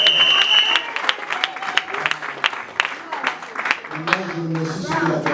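Church congregation clapping and cheering in praise during a Sunday worship service, a dense burst of applause with voices mixed in throughout.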